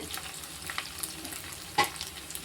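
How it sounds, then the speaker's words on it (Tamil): Chopped onions sautéing in oil in a pan for a Tamil-style egg curry, a soft, low sizzle with faint crackles and a brief scrape of stirring, quiet and close with no voices. "வெங்காயம் நல்லா வதங்கி வந்துடுச்சு"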